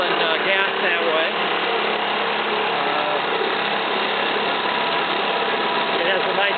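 British Seagull outboard motor running on a 10-to-1 oil and gas mix, a steady buzzing mid-pitched drone held close and loud throughout, with a slight rough flutter.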